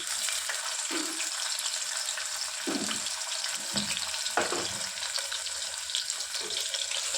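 Thinly sliced medium onion fries in hot oil inside a pressure cooker, a constant soft sizzle close by with a few scraping stirs and clatters, no voices over it.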